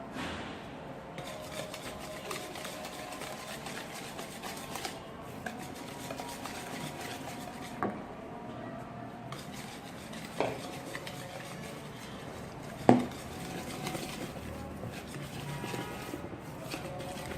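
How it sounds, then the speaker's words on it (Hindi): Flour is slowly mixed by hand into fruit cake batter in a bowl, giving a quiet, steady scraping and stirring with occasional sharper clinks of the utensil against the bowl. "अब मैं आहिस्ता आहिस्ता इसमें ड्राई अपना मैदा डालते जाऊंगी और इसे बीट करते जाऊंगी।"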